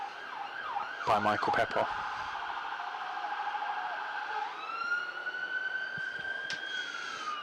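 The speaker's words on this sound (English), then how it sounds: "You might hear that siren." An emergency vehicle siren wails from a nearby main road in Chelmsford city centre, rising and falling through several cycles, heard at moderate distance behind a commentator's voice at a cricket ground.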